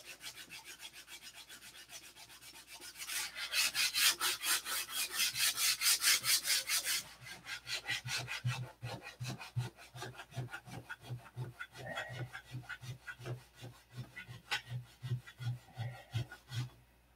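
Painted balsa wood is sanded by hand in steady back-and-forth strokes, a faint close rasp that grows louder and faster in the middle, then settles into a regular scratching rhythm.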